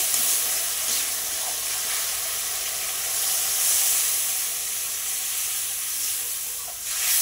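Mustard paste frying for a bhola fish curry gives a steady hiss and sizzle as water goes into the pan, a continuous bright crackle with slight surges and no voices.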